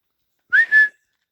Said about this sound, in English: That's the whistle that I do for my dogs